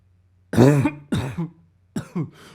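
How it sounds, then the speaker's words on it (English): A person coughs several times close up, two heavy harsh coughs followed by a pair of shorter ones, with brief silence between. "Bro, I've been coughing a lot."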